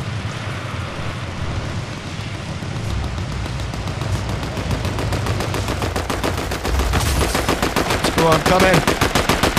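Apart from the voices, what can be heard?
gunfire in the video game Fortnite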